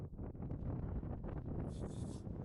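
Cold wind on the summit of Meikle Bin in the Campsie Hills, buffeting the microphone as a loud, gusty low rumble with a brief hiss near the end, with no talking.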